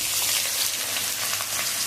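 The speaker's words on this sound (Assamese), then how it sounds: "ইয়াতে মই পিঁয়াজখিনি দি দিম।" Chopped onions frying in hot oil in a pan for Chicken Maharani, a steady bright sizzle that fills the whole moment with no voices.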